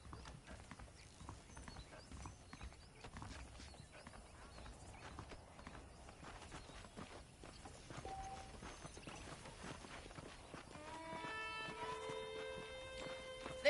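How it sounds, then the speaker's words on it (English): Horse hooves clip-clop in a steady walking rhythm in the Red Dead Redemption video game, over a busy background, with the pace quickening slightly toward the end. "The horses are saddled up over here."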